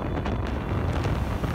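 A strong gale in the Scottish countryside roars steadily into the microphone as loud, constant wind buffeting with low rumbling gusts and no voices.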